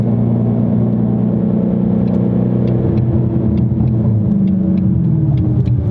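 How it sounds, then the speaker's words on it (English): Shelby GT350 800R, a 2019 twin-turbo build, rumbles loudly with a steady low engine drone, boost building and faint hissing chirps from the blow-off valve recurring in the upper range. "you can hear the boost start to build and the blow off valve and stuff"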